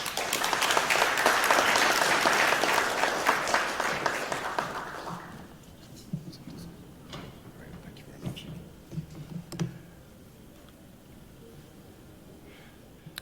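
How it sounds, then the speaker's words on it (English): An audience at a conference claps to welcome a speaker, with dense, loud applause for about five seconds that then thins into a few scattered claps and rustling, ending in near quiet. "With a round of applause, let's welcome Mr. Nicholas Frappell to deliver his special address"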